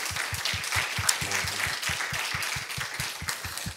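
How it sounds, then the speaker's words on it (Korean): A church congregation at an evening worship service claps in praise to God, steady rhythmic unison clapping over a low, pulsing thump, fairly distant and filling the room. "우리 예배를 받아주신 주님께 우리 감사와 또 찬양의 박수를 드리겠습니다"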